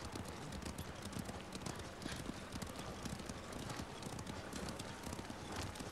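Horse hooves clip-clop steadily in the game Ghost of Tsushima, a continuous close rhythmic patter of footfalls over a dense ambient bed, with no talk.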